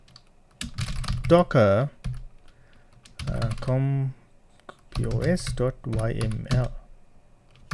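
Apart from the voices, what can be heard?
typing a command on a computer keyboard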